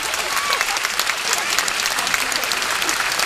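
An audience applauds a young female singer at an anniversary concert, a dense, steady wash of clapping that stays loud and even from start to finish with no voices over it.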